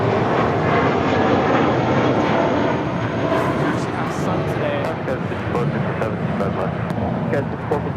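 An airliner takes off at Los Angeles International Airport, its jet engines a loud, sustained roar that slowly eases, with radio chatter audible in the background.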